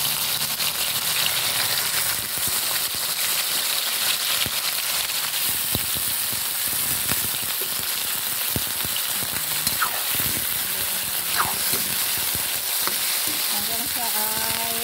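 Pork and chicken for adobo sizzle steadily in a hot pan, a continuous dense frying crackle with occasional stirring scrapes throughout.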